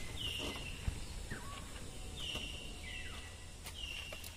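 An unidentified bird calls outdoors on a scenic roadside in Saralpara, Kokrajhar, repeating short descending whistled notes at a moderate distance over faint background rustle.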